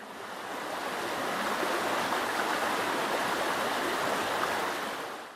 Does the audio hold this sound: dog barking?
no